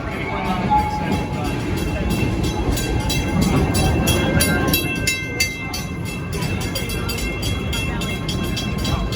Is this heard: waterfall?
no